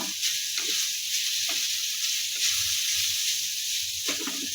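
Grated sweet potato sizzles and hisses steadily in a pan over a low gas flame, with a few scraping stirs at intervals.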